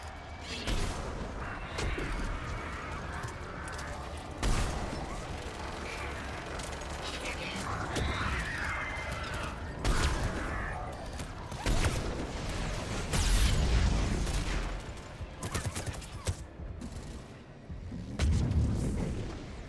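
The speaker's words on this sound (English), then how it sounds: "Missiles are hot." Missiles launching and exploding in the Mass Effect 3 game, a dense run of heavy booms and mechanical clatter with bursts every few seconds, loud and close, with a voice speaking over parts of it.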